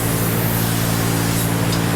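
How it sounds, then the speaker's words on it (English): Loud, continuous hiss of a rustproofing spray probe fogging oil into cavities of a 2015 Ford F-250 pickup, a steady unbroken blast with low compressor rumble beneath. "Anywhere there's a hole, he'll stick that probe and spray, and it'll fog everything on the inside."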